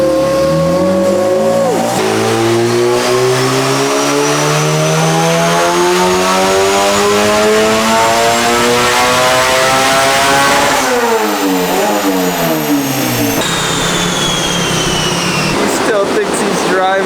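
A turbocharged, otherwise bone-stock Honda GSR engine screams loudly under power through rising revs and gear changes, with turbo whine and a steady roar, close and continuous, with some indistinct voices mixed in.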